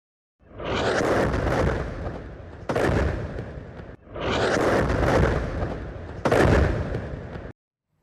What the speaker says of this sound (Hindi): एक इमारत को निशाना बनाकर उस पर 2 मिसाइलें गिरा दी और जबरदस्त धमाका हुआ।